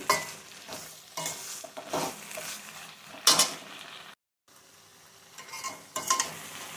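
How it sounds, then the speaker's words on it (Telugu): White brinjal pieces sizzle in a pan over medium heat while a spoon scrapes and stirs them in repeated strokes, close and crackling, with one brief dropout in the middle and no talk. "మంటను మీడియంలో పెట్టుకుని మధ్య మధ్యలో కలుపుతూ ఉండాలండి"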